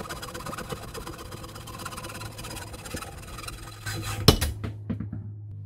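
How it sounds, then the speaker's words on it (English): A hacksaw cuts through the shaft of an e-bike electric motor being scrapped for copper, a steady rasping back-and-forth scrape up close that ends with a sharp metallic clank. "so I'm just going to use a hacksaw."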